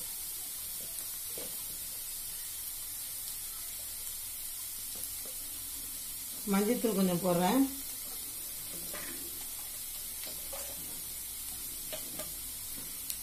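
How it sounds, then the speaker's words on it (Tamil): Onions being sautéd in a pan for spicy kuzhi paniyaram made from idli batter give a steady low sizzle and hiss, with a louder burst of stirring and scraping near the middle, while someone talks over it. "கொஞ்சம் நல்லா வதக்கிக்குவோம்"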